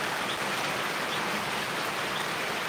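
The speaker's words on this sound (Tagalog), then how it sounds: "Grabe, ulan na naman." Steady rain falls as a dense, even wash of hiss with no breaks, moderately loud and close, with no voices over it.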